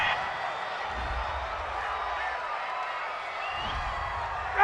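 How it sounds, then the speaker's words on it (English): Home stadium crowd at an NFL game, Rams versus Falcons, roaring after a pass interference call against the defense; a loud, sustained cheer with whoops fills the whole stretch, swelling again near the end. "This home crowd, they're happy with that call."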